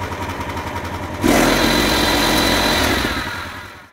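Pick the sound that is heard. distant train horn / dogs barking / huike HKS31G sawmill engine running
huike HKS31G sawmill engine running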